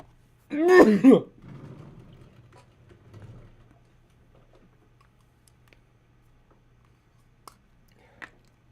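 A single harsh cough bursts out near the start, followed by quieter throat noises and a few small clicks in an otherwise quiet room.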